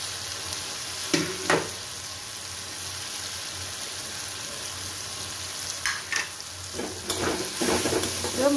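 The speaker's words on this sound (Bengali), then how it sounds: "এবার মশলাগুলোকে খুব ভালো করে কষিয়ে নেব।" Spices and sugar fry in a pan with a steady sizzle, while a spoon scrapes and stirs in a few distinct bursts. It sounds close and moderately loud, with no talk.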